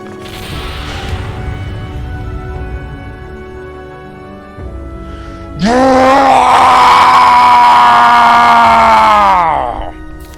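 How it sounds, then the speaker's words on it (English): Valtro lets out a blood-curdling scream in Soulcalibur VI, a loud, strained, sustained cry of several seconds rising over rumbling effects before cutting off. "The man shuddered violently, then let out a blood-curdling scream."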